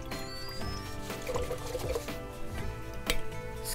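Paint brush swished and rinsed in a container of water, with steady liquid sloshing and trickling throughout, close and fairly loud, and a brief louder splash near the end.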